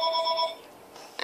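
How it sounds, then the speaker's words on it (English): A phone rings indoors, a short electronic tone with steady harmonics lasting about half a second before stopping, then quiet room noise. "that was the phone ringing"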